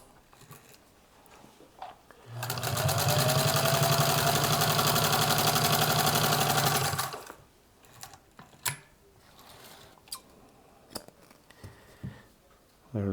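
A Singer 66 sewing machine runs through heavy nylon material in one continuous burst of about five seconds, a fast, even mechanical whir and clatter, framed by quieter clicks and handling noises before and after.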